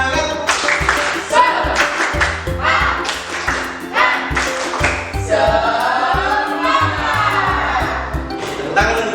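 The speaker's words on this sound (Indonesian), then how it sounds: "Biar tambah semangat, tepuk semangat." A school class performs a rhythmic 'tepuk semangat' clapping chant, sharp claps landing in a patterned beat while children's voices chant along, close and lively in the classroom.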